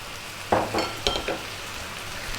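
Onions and carrots fry over medium heat for a spicy lamb bone broth, making a gentle, steady sizzle with several short stirring scrapes, close and fairly quiet.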